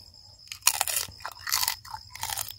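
Crispy grilled pork head being bitten and chewed, three loud crunchy bursts in close succession with brittle crackling between them, no talking.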